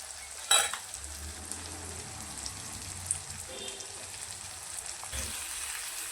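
Stuffed capsicums are dropped one by one into spicy masala frying in oil, with a faint, soft crackle, a sharp clink near the start and occasional light scrapes.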